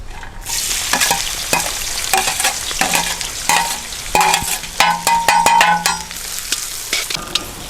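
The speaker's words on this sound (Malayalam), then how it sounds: "ഉള്ളി വറുത്തെടുക്കുക." Onions fry in hot oil, a loud close sizzle broken by repeated scraping and clinking of a stirring spoon against the pan throughout.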